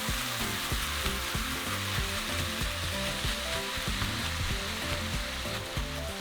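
Ground meat sizzles and fries steadily in a hot pan for homemade chalupa filling, with a dense, continuous crackle and occasional stirring scrapes, close and fairly loud, with no talking.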